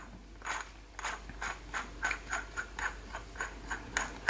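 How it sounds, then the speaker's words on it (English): A Huma-Air regulator being screwed back into its tester housing gives a run of quiet, evenly spaced clicks and light scrapes, about a dozen turns' worth, close up and alone. "you will place the regulator inside the hole of the tester, and you can screw it all back on"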